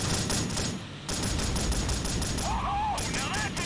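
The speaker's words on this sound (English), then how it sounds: "Oh, now that's an explosion!" Rapid automatic gunfire rattles continuously at high intensity in a Delta Force Black Hawk Down firefight at Gachsaran Oil Field, with brief breaks and a sweeping whoosh mid-battle suggesting an explosion, loud and dense throughout.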